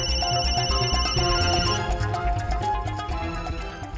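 Phone ringtone playing repeatedly with no answer, a melodic electronic ring in a television drama scene, loud and close with no voices over it.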